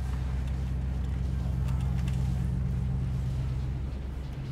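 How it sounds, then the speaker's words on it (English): A truck drives along a beach, a steady, loud low engine rumble that holds constant throughout before easing slightly at the end. "Noisy truck going down the beach."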